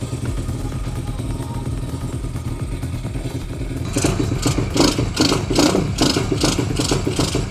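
A pit bike's small motorcycle engine runs after an engine replacement, idling loud and close with a steady rough, clattering drone, then revving into a harsher, pulsing rattle partway through.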